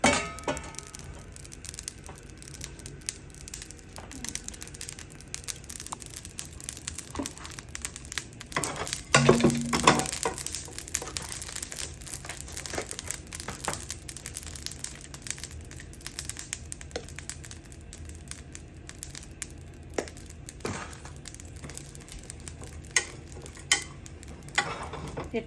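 Ground coriander dry-roasting in an empty karahi over low heat, with steady stirring scrapes and soft clinks of a spoon against the metal, a brief louder burst midway, and no talking.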